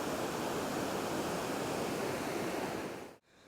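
Water rushes over Wakely Dam in the Moose River Plains, New York, a loud, constant broadband roar that cuts off abruptly near the end.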